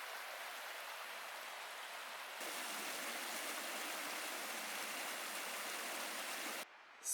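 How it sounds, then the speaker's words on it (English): Creek water near a trail shelter on the Appalachian Trail rushes in a steady, dense hiss with no pauses, close and fairly loud, swelling slightly partway through with no voices. "River down there, pretty nice place."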